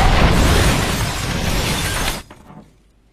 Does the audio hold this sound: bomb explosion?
yes